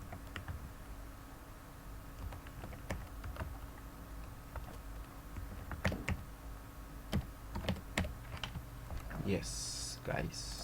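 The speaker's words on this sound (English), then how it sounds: "and then you can type in the email" A computer keyboard is typed on in sporadic bursts of crisp, close key clicks with uneven pauses, over a quiet background hum.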